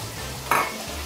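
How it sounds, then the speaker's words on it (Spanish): Rice poured into a simmering Peruvian fish soup (chupe de pescado), a brief soft hiss and rush that rises over a low, steady bubbling and then fades, heard close with no speech. "Vamos a echarle el arroz"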